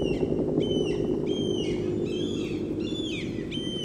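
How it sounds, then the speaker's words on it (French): Seagull cries added as a sound effect in Final Cut, several repeated squealing calls over a steady low rumbling harbour or boat ambience. "On va rajouter des mouettes"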